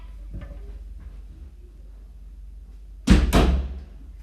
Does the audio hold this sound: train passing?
no